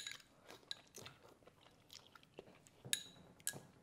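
Someone eats a vegan soba noodle soup with tofu, with faint, close bites, chewing and slurping noises in irregular bursts and no speech.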